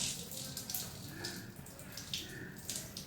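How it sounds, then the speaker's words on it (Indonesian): Water pouring out of a tap-like outlet, a steady splashing flow with small irregular spatters, fairly quiet and close. "Ini ibaratnya air di keran-keran gitu ya."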